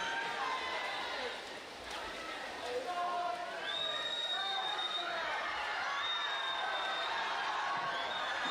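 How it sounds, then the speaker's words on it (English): A crowd at the New Zealand age group swimming championships cheers and shouts continuously from a distance, swelling in excitement, beneath steady commentary from someone talking. "The crowd starting to heat up."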